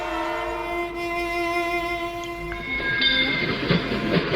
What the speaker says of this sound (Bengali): একটা ট্রেন চলে যাচ্ছে